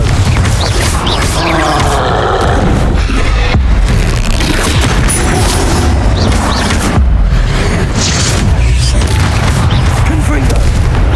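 Confringo spell explosions in Hogwarts Legacy: heavy, booming blasts repeat through dense, continuous combat noise. The whole stretch stays loud, with spoken voices mixed in.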